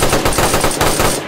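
Automatic gunfire in the video game DayZ: a loud, dense burst of rapid shots, fired in a tight rhythm for just over a second before cutting off.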